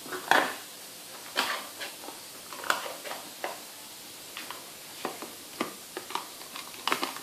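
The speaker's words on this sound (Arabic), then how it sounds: "من بعد نخلط مليح المكونات" A utensil stirs quiche filling with white cheese and egg in a bowl, producing scattered light clinks and scrapes at an uneven pace, close and quiet.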